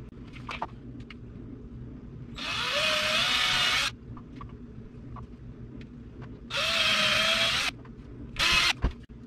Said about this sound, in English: we're gonna drill the holes now